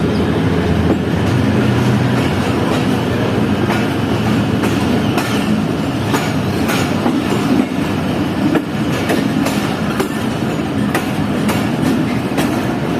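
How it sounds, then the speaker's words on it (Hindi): Fareed Express passenger train rolling into a station platform, a loud steady rumble with repeated clickety-clack of wheels over rail joints, close and continuous, with no talking. "प्लेटफॉर्म नंबर 3 पर पहुंची है हमारी ट्रेन।"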